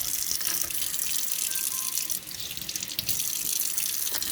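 Warm water runs steadily from a tap into a sink, a continuous close splashing flow with no talking.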